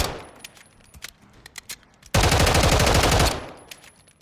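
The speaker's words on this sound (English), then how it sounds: "just by 2 pulls of the trigger, you're getting 4 shots" Bursts from a CAA RONI G-1 carbine kit in Call of Duty Modern Warfare III: scattered faint clicks, then one loud, dense rapid-fire burst lasting about a second, followed by lighter sparse shots.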